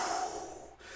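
A single deep breath during a guided breathing exercise, drawn in and pushed out as a close, airy, steady rush of air with a brief dip near the end, no talking over it.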